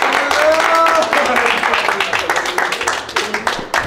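A small group of friends claps together, a loud, close patter of hands that grows more distinct toward the end, while voices talk over the start.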